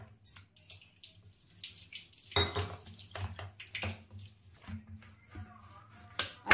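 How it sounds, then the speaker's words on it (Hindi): Water trickles and splashes in short pours into a bowl of flour to soak dough for methi paratha, close up, with light clinks of the bowl in between. "अब हम इसको थोड़ा थोड़ा पानी डाल के भिगाएंगे।"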